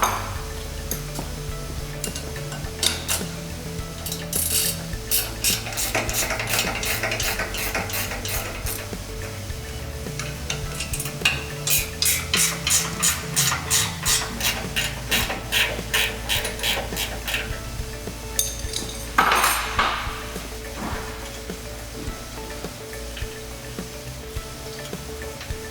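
A 7/16 wrench ratchets out quarter-inch bolts on a fence hog tilt plate attachment, giving repeated quick metallic clicking bursts in rapid rhythmic runs, close and moderately loud over a steady low hum.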